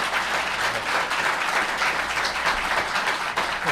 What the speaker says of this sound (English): Have a round of applause for everybody.